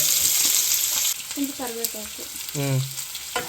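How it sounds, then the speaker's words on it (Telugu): Onions deep-frying in oil already used for frying potatoes, a steady loud sizzle with occasional stirring and brief talk underneath. "వేసేసి బాగా ఫ్రై చేసేసుకోవాలి డీప్ ఫ్రైయా ఫ్రై ఉల్లిపాయలు వేగేదాకా"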